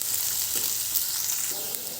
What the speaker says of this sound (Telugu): ఇలా ఫ్రై చేసుకోవడం వల్ల మనకి ఈ క్యాప్సికమ్ అనేది సాఫ్ట్గా కుక్ అవ్వాలి